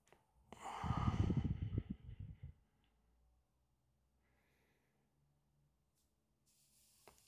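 A person breathing during a Buteyko breathing exercise, one long loud close breath with airy hiss lasting about two seconds, then near silence with faint soft breathing and a slight rustle at the end.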